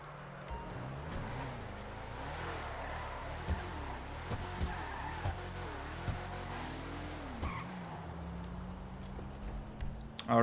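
A car in a driving video game revs with a rising and falling engine pitch, followed by a long sustained tone, with a few short sharp noises along the way.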